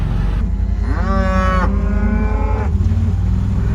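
A cow lets out a long, loud moo, followed by a second lower call, close by with a steady background hum.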